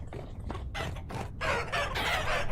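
Chickens near a dome being built, giving loud, close, ragged clucks and squawks in several bursts, as if startled and running off.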